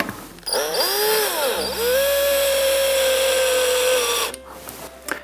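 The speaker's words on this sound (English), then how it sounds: "it's pressed down into position, and drive your screw in" A power driver sinks a screw into a window frame sill, its motor whining up to a sustained high pitch for about four seconds before cutting off sharply.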